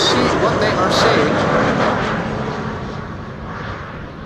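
A narrow-body airliner arriving at Amsterdam Schiphol Airport, its broad engine roar loud at first and slowly fading as it passes, with a voice talking over it.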